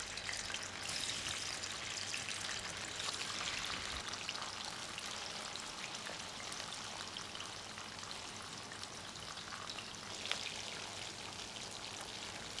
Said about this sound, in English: frying our tofu.